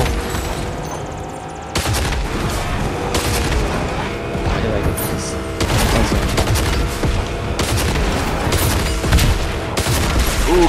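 Gunshots in a shooting video game: repeated loud bursts of gunfire and heavy booms in rapid clusters across roughly ten seconds, with dense overlapping shots and brief lulls between volleys.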